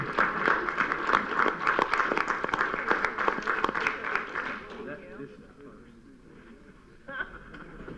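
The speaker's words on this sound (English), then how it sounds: "I want to stand up and give you a round of applause" Applause for a commissioner at a county commission meeting in Washington County, Tennessee, with sharp clapping under talk for about five seconds, then fading to quieter room sound.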